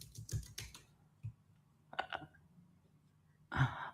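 Quick bursts of keystrokes on a computer keyboard set to an English layout, a few taps then a pause, another short cluster and a final louder clatter, close and fairly quiet in an otherwise still room.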